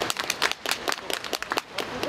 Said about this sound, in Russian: А талант местного боксера оценили бурными аплодисментами.